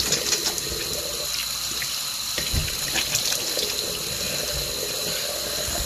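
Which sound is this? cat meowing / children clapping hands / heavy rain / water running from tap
water running from tap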